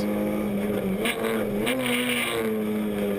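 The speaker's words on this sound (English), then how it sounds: "This is Maurits Werkhoven driving a Clio 3, the older Clio version, and these cars are fighting in the challenge." Renault Clio race cars, older Clio 3 models among them, scream past at Zandvoort in a Clio Cup Benelux race, their engines droning and shifting pitch continuously and loud throughout.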